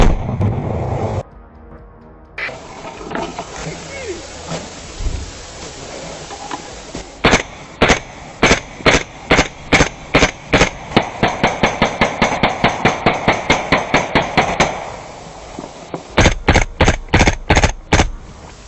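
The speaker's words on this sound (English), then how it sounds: "a Ukrainian soldier deployed a grenade into the bunker and applied controlled fire toward the interior." A grenade and controlled gunfire go into a Russian bunker during a Ukrainian assault, heard as sharp, loud, close blasts. After a blast comes a long run of rapid shots, a pause, then another quick burst of fire.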